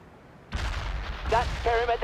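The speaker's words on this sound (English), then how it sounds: "Rangers under fire! Get moving, but don't stop shooting. We need artillery immediately." Heavy battlefield gunfire and artillery in the video game World in Conflict, a sudden loud burst followed by continuing rumbling fire, with shouted voices over it.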